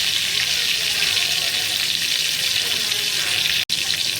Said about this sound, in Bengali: একটু হালকা ফ্রাই করে নিচ্ছি চিংড়ি মাছটা